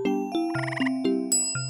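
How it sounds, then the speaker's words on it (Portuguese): A cartoonish frog croaks in several short tonal bursts mixed with chiming jingle notes, loud and close in a children's educational animation, with no talk. "Sapo."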